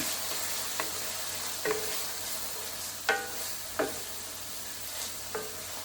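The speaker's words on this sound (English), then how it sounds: "Put the onion in." Onion sizzles in olive oil in a pan with a steady frying hiss, broken by a few sharp stirring scrapes that stand out close by.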